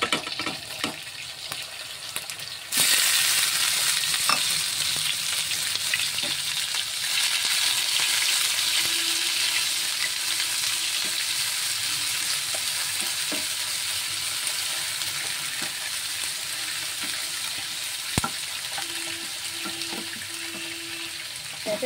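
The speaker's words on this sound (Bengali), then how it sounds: "তেলটা গরম হয়ে গেছে, চলো আমি দিয়ে দিই পেঁয়াজটার সাথে।" Onions hit hot oil in a nonstick pan on a gas flame, bursting into a loud, steady, close sizzle after a brief quieter moment and frying continuously, with occasional utensil clicks and no talking.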